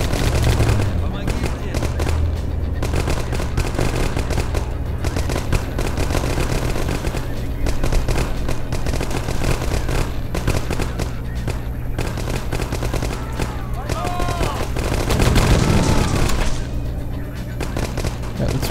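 Video game gunfire from 9th Company: Roots of Terror, a dense, continuous stream of rapid automatic shots and battle noise filling the whole stretch, with a louder burst near the end.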